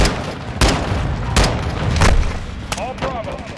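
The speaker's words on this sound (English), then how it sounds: "That's a tank, brother." A tank firing in Modern Warfare 2 Remastered, several loud booming shots about a second apart over rumbling combat noise, with a voice heard near the end.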